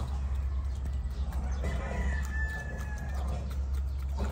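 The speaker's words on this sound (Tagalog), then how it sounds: "ito naman mga boss yung ating brood stag na imported Larry Romero" An imported brood stag rooster on a farm gives a drawn-out crow over clucking and steady outdoor farm noise, fairly close and moderately loud.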